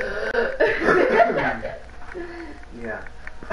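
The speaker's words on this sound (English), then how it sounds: "I've been coughing" Coughing close to the mic in a casual home setting, a short burst of rough coughs mixed with laughter-like sounds and brief throat noises.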